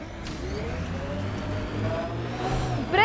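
Vehicle engine revving while driving in Mass Effect: Andromeda, a steady mid-pitched motor hum that rises and falls with acceleration and runs continuously for a few seconds without speech.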